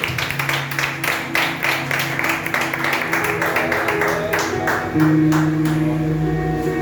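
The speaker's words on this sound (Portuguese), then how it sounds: "E eu peço que a igreja dê uma linda salva de palmas para Jesus." A church congregation at a worship service claps steadily in a rhythmic pattern, with sustained musical tones underneath that grow fuller near the end.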